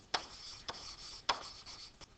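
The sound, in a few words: writing by hand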